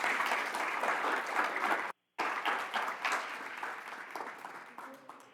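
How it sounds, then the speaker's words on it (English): A crowd at a school district governing board meeting applauds teachers steadily with dense, sustained clapping, broken by a brief gap before the clapping resumes and gradually thins out. "Let's give all of our teachers a wonderful round of applause."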